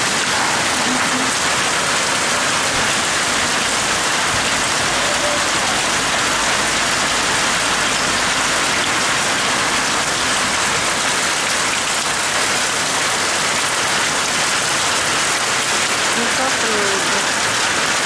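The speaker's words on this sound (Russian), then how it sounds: "Можно просто молчать и слушать шум дождя." Heavy rain pours down steadily in a dense, continuous hiss, with a faint low engine hum beneath it.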